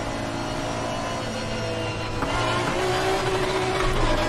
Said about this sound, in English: The engine's slightly quieter on high revs.